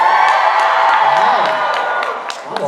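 Convention crowd at a fan event cheering and whooping, loud and close, with sustained shouting and scattered high whoops over a continuous roar of voices for a few seconds.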